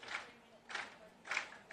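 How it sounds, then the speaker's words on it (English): Spectators clapping in unison in an athletics stadium at the Australian Athletics Championships, heard as faint, distant, slow rhythmic claps spaced about half a second apart. "You might hear some claps in the background."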